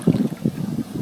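Gusty wind blowing by a lake, buffeting the microphone in low, rough rumbling bursts that rise and fall several times in quick succession, close and moderately loud with no talking.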